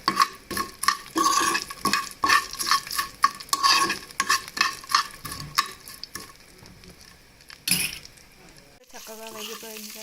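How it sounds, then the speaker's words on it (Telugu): Curry leaves and urad dal are stir-roasted in a pan, with dense crackling sizzle and scraping strokes of a spatula close up, loud through most of the stretch before easing off near the end. "ఒక 2 టేబుల్ స్పూన్స్ మినపగుళ్ళు కూడా తీసేసుకొని చక్కగా ఇలా వేయించుకోవాలి."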